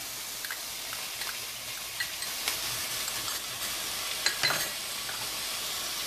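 Ground garlic and ginger sauté in a hot pan, giving a steady soft sizzle with faint scraping stirs and small crackles throughout.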